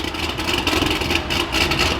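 A modified car engine fitted with aggressive cams, on a car running drag tires, starts up and settles into a loud, lumpy, uneven idle close by, with no talking over it.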